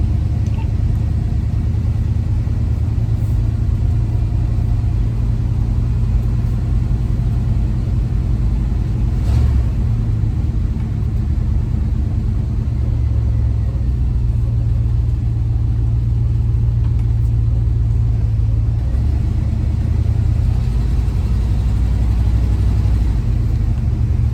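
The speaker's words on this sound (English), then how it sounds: "Take her for a little spin just to make sure all the gears are working." Van with a 4L60E automatic transmission on a test drive, giving a steady low engine rumble and road drone throughout, fairly loud and constant, with no talk.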